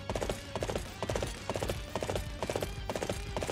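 Horse hooves gallop in a steady, rapid clip-clop rhythm in the video game Dynasty Warriors 8 Empires, loud and close against a dense background of game sound.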